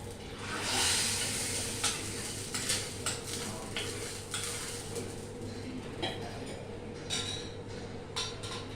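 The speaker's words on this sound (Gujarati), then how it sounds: "હવે આનો આપણે વઘાર કરીએ." Curry leaves and cloves crackle in hot oil for a kadhi tempering: a steady close hiss and sizzle with scattered sharp pops and a few metallic clinks of a pot or spoon, no voices.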